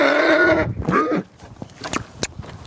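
A horse lets out a shrill, loud whinny, then the scene drops to quieter shuffling broken by a few sharp knocks.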